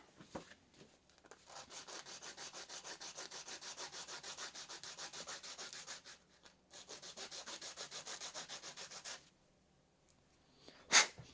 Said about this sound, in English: Maybe run some sandpaper on this.